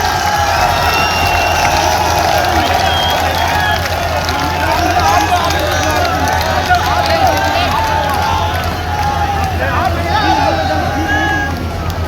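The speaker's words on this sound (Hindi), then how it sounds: "दोनों हाथों से करतल ध्वनि से ताली बजाकर उनका स्वागत करेंगे" Large crowd at a political rally applauding steadily, a continuous dense wash of clapping and cheering that carries loud through the whole stretch with no break.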